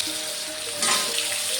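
Potato pieces fry in hot oil in a pan, a dense continuous sizzle that swells louder partway through, close and without talk.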